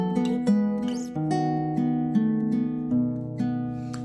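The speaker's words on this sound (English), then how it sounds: "there's this very, very famous classical guitar piece" Solo nylon-string classical guitar plays Lágrima, a slow, gentle melody with ringing plucked notes over a sustained bass line, clear and close.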